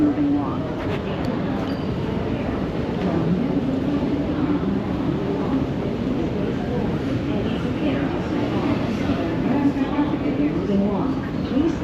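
Steady mechanical rumble of an airport moving walkway running at an airport, a continuous low drone close by that carries on with no breaks, with faint voices and terminal noise mixed in behind it.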